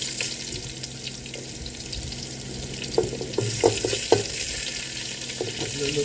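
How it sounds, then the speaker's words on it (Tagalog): Onion sautés in a pan with a steady close sizzle, and a spatula stirs it in a cluster of scraping clicks partway through, with no voices. "Gisa na po natin ang ating onion."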